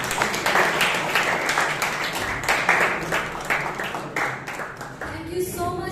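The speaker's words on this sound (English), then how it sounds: "Can I have a huge round of applause for Shelma?" A large round of applause at a Bangalore Toastmasters club meeting as the next speaker is welcomed, steady dense clapping throughout that begins to fade at the very end as a voice starts.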